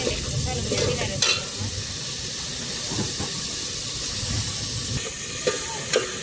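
Spiced masala sizzles and hisses in a pan while being stirred, a dense steady frying noise punctuated by a few sharper scraping clatters near the start and end.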